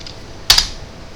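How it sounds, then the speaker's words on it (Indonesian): A single press of the Enter key on a computer keyboard in a quiet room: one sharp, close double-click of the key going down and springing back. "Kemudian tinggal kita tekan enter untuk proses unzip"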